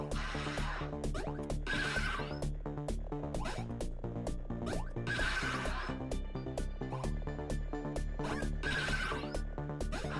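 A horse whinnies repeatedly in the Roach Race minigame of Cyberpunk 2077, with bright neighs recurring every couple of seconds over steady game music and hoof clatter, no talk.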